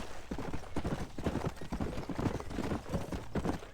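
A horse gallops in the Red Dead Redemption video game, its hooves pounding out a quick, steady clip-clop rhythm close by, continuous for several seconds with faint background ambience.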